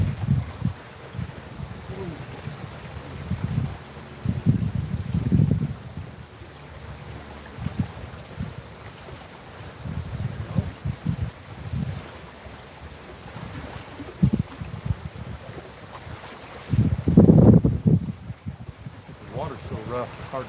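Strong wind over rough open water while fishing, roaring against the microphone in a steady low rumble with swelling gusts and one loud close blast toward the end; faint voice sounds underneath.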